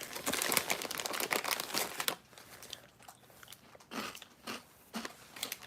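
Someone eating crunchy, smoky paprika corn snack crisps, gluten-free and vegan. Repeated close, sharp bites and crunches come first, then slower, scattered crunching with the crinkle of a snack bag, and no talking.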